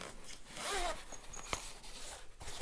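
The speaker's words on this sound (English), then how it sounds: "Let's open up the main zipper." Main zipper on a Tomtoc tablet shoulder bag for an iPad Pro 12.9 being pulled open, a close, continuous rasping zip with a sharp tick near the end, heard alone.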